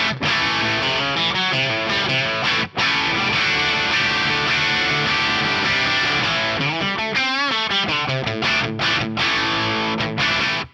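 An electric guitar played through a Wizard NAM amp capture on a Sonulab Stomp Station rings out loud, distorted chords and riffs with a brief gap near the start, sustaining thickly throughout.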